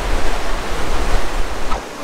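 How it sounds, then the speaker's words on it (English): Roar of Iguazu Falls in Argentina, a steady, loud broadband rush of falling water with some wind buffeting, continuous and enveloping without any voices. "incredible viewpoint after incredible viewpoint here at Iguazu Falls in Argentina"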